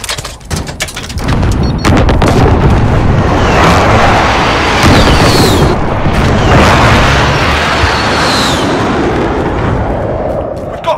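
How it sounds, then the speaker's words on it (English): Series of heavy booms and rumbling blasts from a precision airstrike in a military shooter video game, loud and sustained across the scene, with a voice talking over the explosions. "Be advised, friendly precision airstrike inbound"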